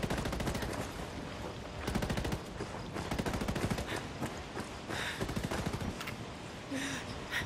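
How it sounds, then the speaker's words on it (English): Rapid automatic gunfire in Ghost Recon Wildlands PvP Sabotage mode comes in several dense bursts of sharp cracks, with brief pauses between the volleys. "I watched you shoot him"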